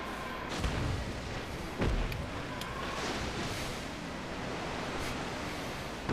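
Warship secondary guns firing in World of Warships, heard as a few dull booming shots over a constant roar of sea and wind, moderately loud and without talking.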